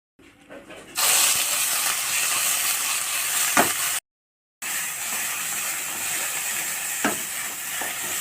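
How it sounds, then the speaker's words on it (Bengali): Mustard flower paste fries in mustard oil in a kadai with a steady loud sizzle and occasional scraping stirs, interrupted by a brief silent gap partway through. "এবার এটাকে আবার একটু তেল দিয়ে কড়াই ভেজে নেব"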